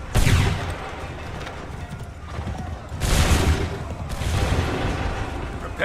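Musket volleys in Assassin's Creed III, loud bursts of massed gunfire at the start, near three seconds and near four seconds, each ringing into a rumbling, noisy tail with clattering battlefield noise between them.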